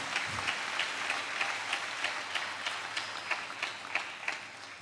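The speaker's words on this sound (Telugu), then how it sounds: "చప్పట్లు కొడుతూ ప్రభుకు స్తోత్రాలు చెప్దాం" A church congregation claps along in praise, a steady run of sharp rhythmic hand claps blended into a dense, moderately loud crowd texture with no speech over it.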